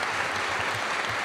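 A gathering of worshippers at a Mercedarian school applauds, a thick, continuous burst of clapping from many people, steady and fairly loud for the whole short stretch.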